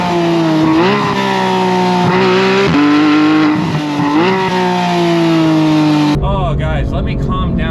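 A Porsche 991 GT3 with its 3.8-liter engine revs hard and loud up through the gears, rising in pitch with brief dips at each shift, before a sharp change to a different, rougher tone near the end.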